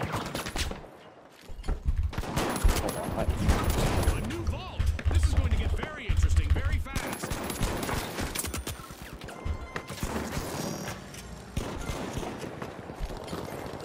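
Shotgun blasts in a competitive shooter game, with repeated sharp bursts of gunfire and clattering impacts mixed into a busy match soundscape, while players talk over the action.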